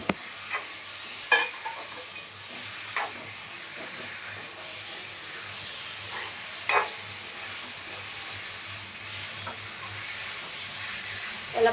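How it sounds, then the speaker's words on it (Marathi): Pieces of liver (kaleji petha) roast in a pan with a steady sizzling hiss and a few occasional stirring scrapes and clinks, close and continuous with no talking. "कलेजी पेटा. याला पण आपण छानसं भाजून घेऊया पहिले."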